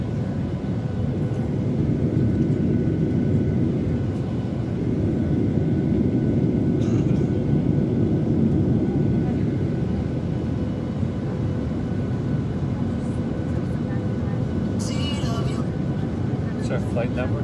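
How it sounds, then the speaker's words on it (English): Steady, loud engine rumble fills a Southwest Airlines airliner cabin before takeoff on a flight to Tampa, a continuous low roar with faint cabin voices mixed underneath. "getting ready for my first takeoff on Southwest flight"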